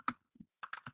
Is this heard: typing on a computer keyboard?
yes